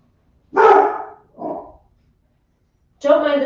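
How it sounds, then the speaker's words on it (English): A protective dog barks in a quiet indoor yoga session, a few loud close barks in separate bursts with silence between them. "Don't mind the dog."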